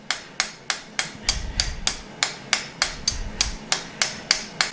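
Steady hammer blows ring out on hot steel over an anvil while V-bit tongs are forged from blanks, the jaws rounded from square to octagon to round; about a dozen sharp, evenly spaced strikes, close and loud with no talk.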